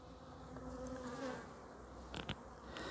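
Dense, continuous buzzing of many honeybees at a hive close by, with a few louder wingbeats passing near the microphone.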